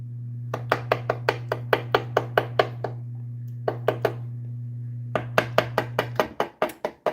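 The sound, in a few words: knife poking air holes in turkey pot pie dough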